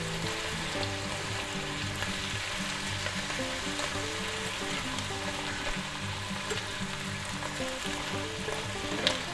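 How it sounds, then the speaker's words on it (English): Minced garlic sizzles in a pan with sautéed onions and mushrooms, a steady close frying hiss with occasional stirring and no talk. "we're going to take a tablespoon of minced garlic, put that in there. Give it a quick stir."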